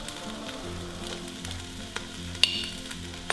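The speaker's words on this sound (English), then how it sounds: "in she goes, and you're going to saute the onions on lowish heat for about 3 minutes" Chopped onions sautéing on low heat in a pan give off a soft, steady sizzle with a few faint pops, heard up close with no talking.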